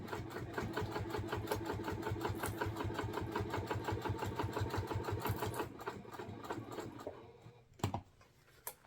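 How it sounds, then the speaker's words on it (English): Sewing machine baste stitching the sides of a vinyl bag, a fast, regular close mechanical chatter that runs for several seconds, then slows and stops, followed by a few clicks. "so now we're just going to baste stitch our 3 sides in place"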